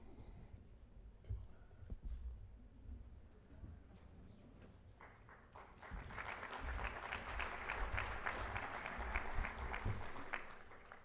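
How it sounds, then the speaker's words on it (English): Modest applause rises from a conference audience at a Colorado River water meeting, starting thin and faint, then swelling into a steadier patter of scattered hands for several seconds before easing off. "Mild applause for the Fed."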